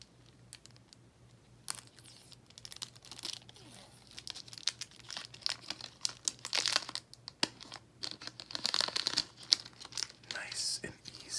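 Plastic wrapper being peeled and torn off a Stargazer Nebula playing card deck, with close, soft crinkling and tearing that grows busier and denser as it goes on, alongside faint whispery voice.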